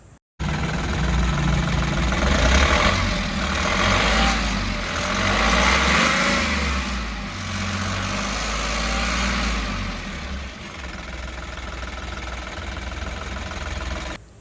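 An Ashok Leyland Bada Dost i3 Plus truck engine runs steadily at idle, a loud, continuous low rumble close by with a slight knocking texture and no talk.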